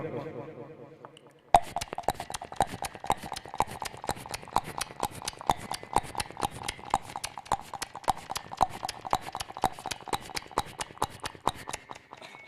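A voice at a cultural awards programme imitates horse hooves with crisp, rapid clip-clop clicks in a steady galloping rhythm, after a brief hum at the start.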